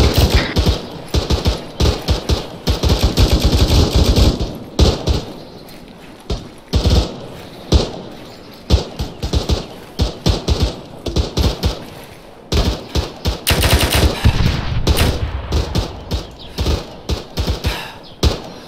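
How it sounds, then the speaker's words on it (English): Rapid bursts of AK rifle fire in a military video game, loud and close, with repeated volleys and short pauses running almost continuously. "Contact to the west. That's AK fire. It's up the hill."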